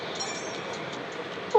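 A train rushes past in a runner video game, a steady, loud rumbling whoosh that holds level throughout and ends with a brief sharp chime.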